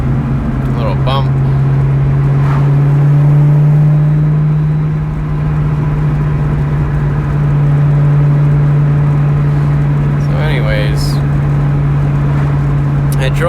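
A 2003-04 Ford Mustang SVT Cobra Terminator cruises along, its engine holding a loud, steady low drone with a brief dip midway, while people talk over it.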